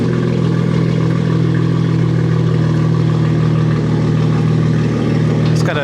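A BMW S55 engine with a Valvetronic equal-length exhaust runs loud and deep on a cold start, a steady close rumble at high idle.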